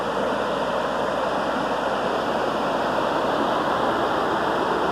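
Water pours down tall falls toward a river just below, a loud, constant, broadband rush that fills the whole scene without a break, with no voices or other sounds cutting through.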